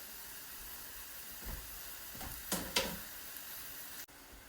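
Mushrooms hiss and sizzle softly in olive oil in a pan. The sound is a faint, steady frying with a few louder bursts of sizzle midway and a brief click near the end.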